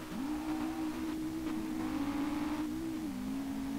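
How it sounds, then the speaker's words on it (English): The five-cylinder Audi RS2 engine in the racing game Street Legal Racing Redline drones steadily at mid revs, its tone climbing slightly then easing off near the end, moderately quiet and without speech. "that sounds like a proper five cylinder car"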